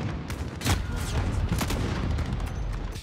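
Dense, continuous gunfire fills a Call of Duty: Modern Warfare match, with sharp loud shots and booms layered over a constant roar of battle, no voices heard.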